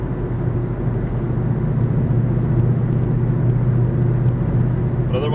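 A car fitted with a Corsa Sport exhaust cruises in sixth gear at about 1800–1900 RPM, heard from inside the cabin as a steady low droning engine and exhaust rumble with road noise, constant throughout.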